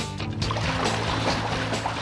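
Water splashes and rushes down a homemade slide built from bathtubs, outdoors in summer, with a steady churning flow and faint voices in the background.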